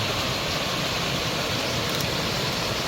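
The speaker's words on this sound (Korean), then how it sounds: "물소리가 많이 들리죠" A mountain valley stream rushes steadily over rocks, a dense, even hiss of flowing water heard close and alone with no breaks.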